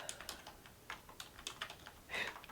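Someone types on a computer keyboard while writing code, producing irregular quick clicks and clusters of keystrokes, quiet and close with no talking.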